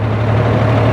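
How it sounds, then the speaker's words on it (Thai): An Isuzu FXZ360 truck engine fitted with an electric throttle runs at a steady idle, a loud, close, continuous low diesel drone with no voices. "นี่เสียงเครื่องยนต์ทำงานอยู่นะครับผม"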